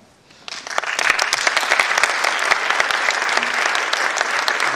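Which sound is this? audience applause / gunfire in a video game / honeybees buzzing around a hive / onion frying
audience applause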